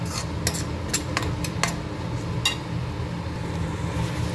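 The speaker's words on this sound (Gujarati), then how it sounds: "મરચું ધાણા જીરું નાખીને હલાવી દઈશું અને એને મસાલાને સંતળાવી દઈશું" A spoon stirs turmeric, chilli, coriander and cumin in a pan for a chickpea curry, giving scattered metallic clinks and scrapes over a steady low sizzle and hum.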